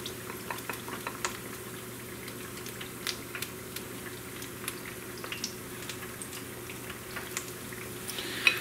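Battered mushrooms deep frying in hot oil in a fryer, a steady low bubbling hiss with scattered small pops and crackles, fairly quiet and close, with no talking over it.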